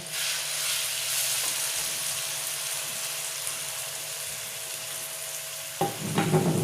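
Oil sizzles and crackles steadily in a pan as browned onion fries with ginger and garlic, with a brief scrape of stirring near the end; no voices.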